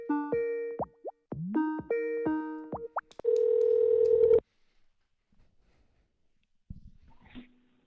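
An outbound telephone call on a cell phone produces a run of electronic dialing tones, then a steady tone for about a second, followed by quiet and a faint click.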